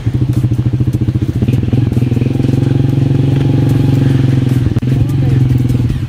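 A motorcycle rides along a village road in the Philippines, its engine chugging loud and close in a steady rapid pulse throughout, with a brief dip near the end.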